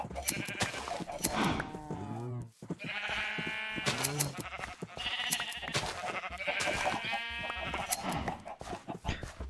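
Loud, close sheep bleats in Minecraft come in repeated bursts, several animals calling one after another with short pauses between them.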